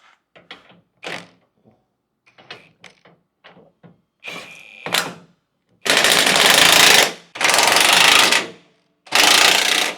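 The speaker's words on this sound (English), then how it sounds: "we'll just run around and get everything tight" Impact wrench tightening bolts on a rear differential skid plate for a second-generation Toyota Sequoia, heard as three loud sustained bursts after a stretch of quieter scattered clicks and clanks from the work.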